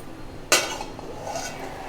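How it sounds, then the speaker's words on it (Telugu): A metal lid is lifted off a pot of mixed leafy greens cooked without added water, and the greens are stirred. A single sharp, close clink is followed by soft scraping and faint rustling, with no talk. "ఇప్పుడు ఒకసారి మూత తీసి కలుపుదామండి"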